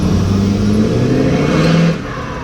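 A tuned diesel truck engine revving loud and close, its pitch climbing as the turbo spools up, then dropping off sharply near the end.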